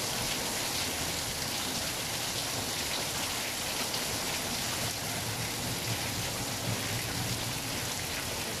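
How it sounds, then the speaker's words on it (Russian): Heavy rain pours steadily during a thunderstorm with hail, a dense, loud, unbroken hiss and patter of drops on surfaces that holds without pause, with no voices. "И дождь, и град, гроза, молния."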